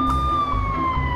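An ambulance siren wails in the video game Watch Dogs, a loud, steady electronic tone gliding slowly downward with a higher harmonic over a low engine rumble.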